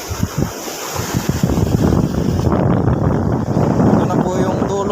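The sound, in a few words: strong sea waves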